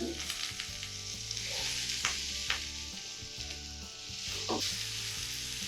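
Breakfast sausage and onions sizzle in a hot skillet with a dense, continuous hiss, broken by a few sharp spatula scrapes and taps, up close and without talk.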